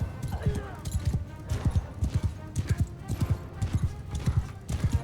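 Horse hooves clip-clop in a quick, steady rhythm in Mount & Blade II Bannerlord, close and prominent, with a brief whinny near the start.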